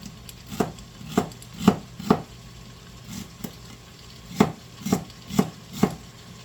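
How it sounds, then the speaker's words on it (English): A knife chops through celery stalks on a board, sharp crisp cuts in two quick clusters of about five strokes each, close and clear, with a low steady hum underneath. "I'm going to cut some celery up here."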